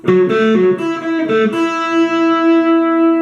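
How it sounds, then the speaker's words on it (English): Lead electric guitar line from a song, a quick run of picked notes that settles into one long sustained ringing note, close, fairly loud and alone. "Now let's get to what the lead guitar is playing,"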